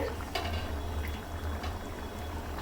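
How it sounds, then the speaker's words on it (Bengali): A pot of chicken biryani comes to a boil, giving a continuous low bubbling rumble with faint clinks of metal, steady and close throughout. "এই দেখুন বলকটা এসে গেছে"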